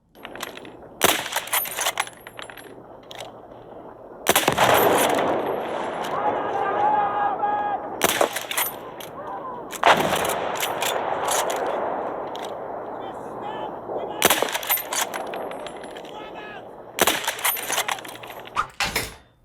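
Bursts of video game gunfire played through a budget gaming headset during a shooting test, loud clustered volleys with short gaps and rapid cracking shots, separated by quieter stretches.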